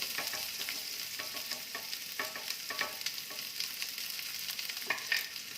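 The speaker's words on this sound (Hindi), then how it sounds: "तेल गरम हो चुका है, इसमें एक मीडियम साइज का लंबा कटा हुआ प्याज डालेंगे।" Continuous sizzling of sliced onion frying in hot oil, with scraping stirring sounds at irregular intervals, quiet and close, no speech.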